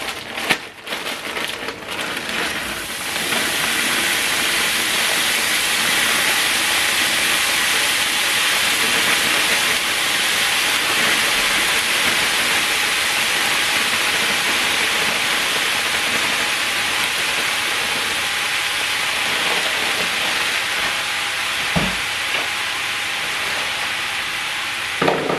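Beef and onion mince, bought ready-mixed from Iceland, frying in a hot saucepan for spaghetti bolognese. A loud, steady sizzle fills the whole clip after a few rough clunks at the start, with a faint knock near the end.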